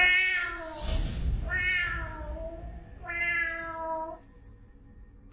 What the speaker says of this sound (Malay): Dia mula membuat suara seolah-olah nak bergaduh dengan sesuatu yang ada di